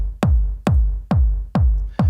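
Electronic-track kick drum hits five times at a steady even pulse, each a punchy, booming thump with a falling pitch tail, loud and close with nothing else audible.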